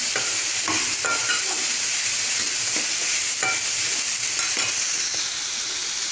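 Snake gourd sautés in a pan with a constant close sizzle, broken by soft scraping stirs of a spoon at an irregular pace.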